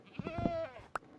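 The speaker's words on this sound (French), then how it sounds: "Putain, la chèvre." A goat in the video game Minecraft gives one short wavering bleat, close and clear, followed by a brief sharp click.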